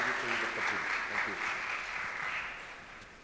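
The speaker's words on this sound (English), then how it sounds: "let's give applause to Dr. Jun." A conference audience claps steadily for about three seconds, a dense, even patter that fades slightly toward the end, heard in a hall with no voices over it.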